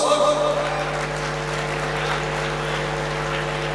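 Audience at a live Gujarati comedy show applauding, a dense steady wash of clapping from many hands throughout, loud and close, with a steady hum underneath.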